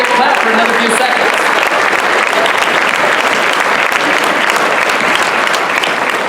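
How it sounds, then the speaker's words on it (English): Continuous heavy clapping from a big convention crowd at a keynote address, steady and loud throughout with a murmur of voices and scattered cheers underneath. "Get it, they're only going to clap for another few seconds."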